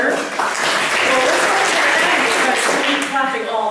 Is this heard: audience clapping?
yes